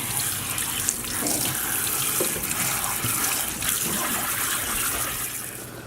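Tap water runs steadily over cooled lasagna noodles being rinsed in a kitchen sink, a continuous close gushing splash with no talking.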